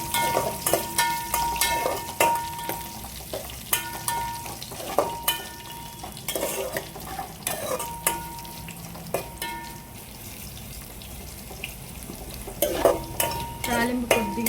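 Tempering of garlic, dried red chillies and curry leaves frying in a pan, with a steady sizzle under repeated scraping stirs and clinks of a spoon against the metal.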